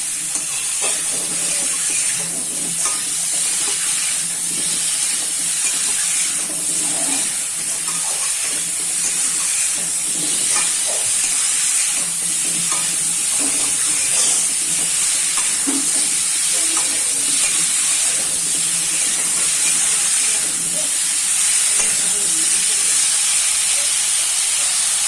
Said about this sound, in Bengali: এবার একটু নাড়াচাড়া করে লাল লাল করে ভেজে নেব।